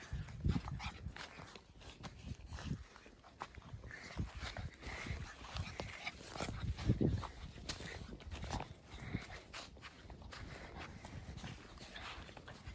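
Newborn puppies in a litter at home, faint scrabbling, small whimpers and soft squeaks mixed with shuffling and bumping close by, quiet and irregular.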